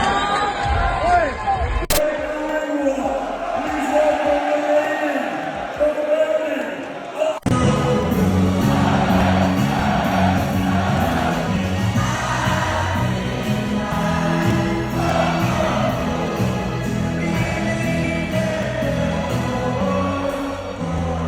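A crowd at a DAZN boxing event in Dublin roars and cheers loudly and without a break. A sharp clap or slam cuts through early on, and the noise then swells into a dense, rhythmic cheer with chanting voices.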